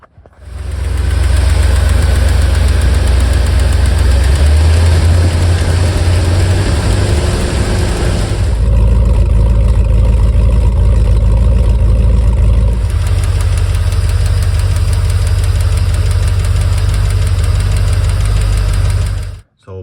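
A 1978 Ford Bronco engine, recently fitted with a swapped carburetor, cranks and runs loud and close with a steady low rumble and a persistent rhythmic knock, its tone shifting briefly partway through before settling back into a rough idle.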